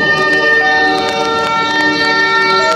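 Train passing fast for a night-time horror story, with steady tonal horn-like drones and rhythmic clacking wheel thumps rolling by loudly and continuously.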